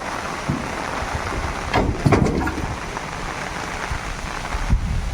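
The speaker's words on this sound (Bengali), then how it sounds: "বৃষ্টি এসে গেল" Rain begins falling in the Sundarbans countryside, a dense steady patter and hiss on surfaces with a few louder bursts of drops partway through, heard alone without talk.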